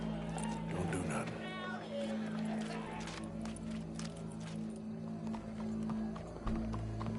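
Horse hooves clip-clop steadily in a PS4 video game, a continuous rhythmic clatter under a low hum and background game sounds, with a crowd faintly present.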